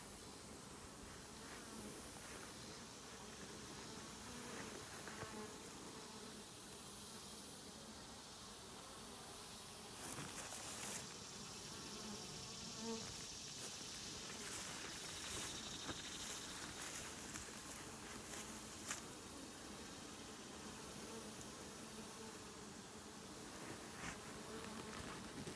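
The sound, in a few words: aggressive Africanized honeybees buzzing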